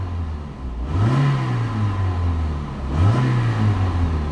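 A 1996 Saturn SC1 with 150,000 miles on it idles, then revs twice, each blip rising sharply and settling back to a steady idle, close and fairly loud with no talk.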